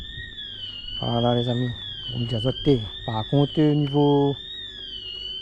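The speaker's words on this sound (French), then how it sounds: "excusez-moi pour ce vilain bruit d'alarme là" An alarm in an industrial zone wails with a steady, undulating tone in the background, while someone talks close by over it.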